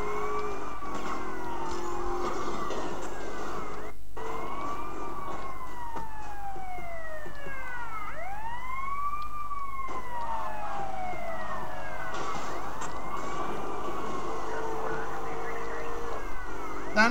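A police car siren wails continuously in Grand Theft Auto: Liberty City Stories, rising and falling sweeps layered over engine drone and game noise, loud and sustained throughout.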